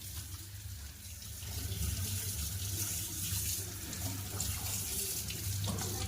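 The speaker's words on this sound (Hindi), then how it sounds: "धनिया और टमाटर और धोना है इसको" A kitchen tap runs steadily as coriander and tomatoes are washed beneath it, a continuous close gush that swells slightly after the first second and carries on with no one speaking.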